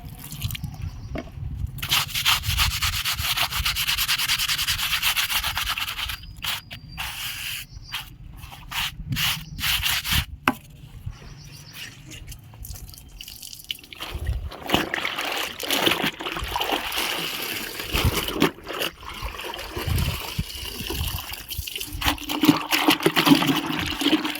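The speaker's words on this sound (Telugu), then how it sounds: "ఓకే నేను క్లీన్ చేస్తాను వాటర్ వేసేసి" Stained clothes being scrubbed by hand and rinsed with water, with steady close rubbing that gives way to splashing, dripping and trickling water in the second half, no talking.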